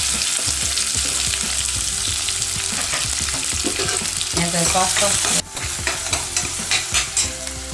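Onions sizzling and frying in hot oil with a tempering of mustard seeds, curry leaves and cumin for a brinjal curry, with stirring scrapes over a steady close sizzle, a brief gap near the end.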